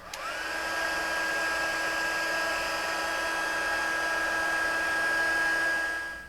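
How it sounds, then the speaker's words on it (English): A heat embossing tool blowing hot air over embossing powder on a handmade card, a steady close whirring blow with a rising whine as it spins up, holding evenly for several seconds before cutting off. "we've got our heat emboss tool here, and we're going to heat up our flour and melt this powder"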